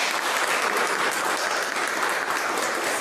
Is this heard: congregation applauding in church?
yes